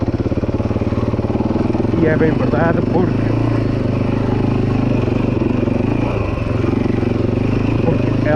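A Husaberg motorcycle engine runs steadily with a loud, low, chugging thump, staying close and constant throughout while someone talks over it.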